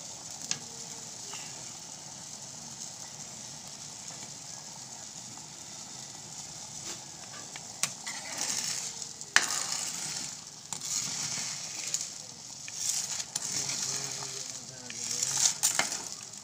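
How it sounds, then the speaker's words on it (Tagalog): Seafood and farm produce cooking in a pot, a soft steady sizzle and bubbling boil with occasional clinks and stirring noises growing busier toward the end. "Pinahayaan muna po natin na makulo."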